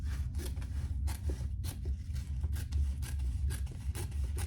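Bag fabric is trimmed with scissors in a quick series of crisp, rhythmic snips and rasping cuts over a low background rumble, close up with no voices.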